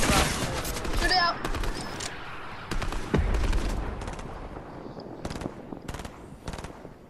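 Rapid automatic gunfire in a shooter video game rattles in loud overlapping bursts as players aim at a wall, with crisp shots and impacts continuing throughout.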